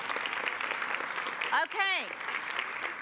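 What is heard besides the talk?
applause for teachers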